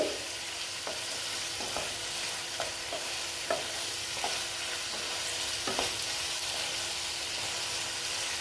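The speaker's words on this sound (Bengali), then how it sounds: "ঢ্যাঁড়সগুলো দিয়ে অল্প আবার মিক্সড করে নিচ্ছি" Okra frying in a pan is stirred, without onion or garlic, for a vegetarian Bengali dish. A steady close sizzle runs throughout, punctuated by irregular light scraping clicks of the stirring utensil, with no voices.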